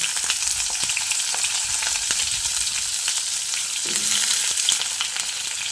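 Drumstick stalks frying in oil with tempering spices, a close, even crackling sizzle with scattered pops and occasional stirring clicks.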